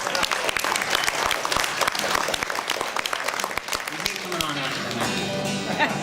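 Audience applause at an outdoor bluegrass concert at a nature preserve, honoring a band, as a steady, dense crowd clapping that holds loud throughout, with some voices mixed in near the end.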